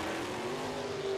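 A modified race car drives out of turn four on an oval track, its engine a faint, steady roar rising slightly in pitch as it accelerates in the distance.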